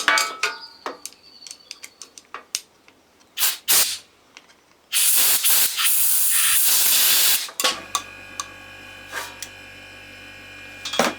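A Parker PPPW-2900 petrol jet washer sprays in one loud, steady hissing burst of about three seconds midway, between scattered knocks and clicks of handling, with a faint steady hum running toward the end.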